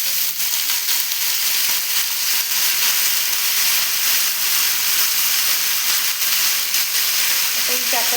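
Jackfruit seeds frying in a pan after mustard seeds and dried red chillies have spluttered, for a Kerala jackfruit seed stir-fry; a steady, dense sizzle holds close and loud throughout, with faint stirring near the end.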